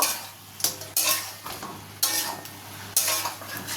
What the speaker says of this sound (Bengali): এবার মাথাটা দিয়ে ভালো করে একটু নাড়িয়ে নিয়ে মাথাটা একটু সামান্য মশলাগুলোর সাথে কষিয়ে নেব।